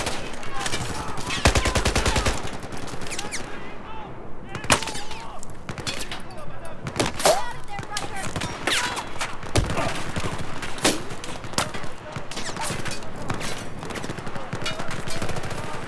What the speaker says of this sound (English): I have no idea where this guy's shooting me from